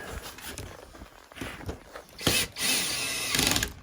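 Power tool tightening windshield mounting nuts on a 2021 Honda Pioneer 1000-5 side-by-side, short whirring bursts with handling noise, close and moderately loud, no talking.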